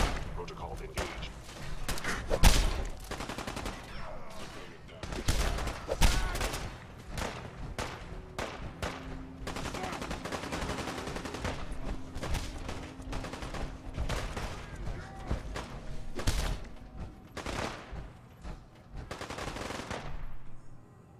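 Gunfire from a fight with super mutants in Fallout 4: dense, rapid automatic bursts and single shots repeat throughout, with thuds and impacts mixed in, loud and continuous, partly under game voices.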